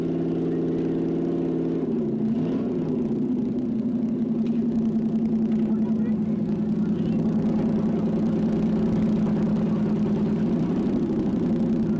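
A 1977 East Africa Safari rally car, stopped at a passage control, idles with a steady low engine hum that dips briefly before settling into an even, continuous drone, loud and close throughout.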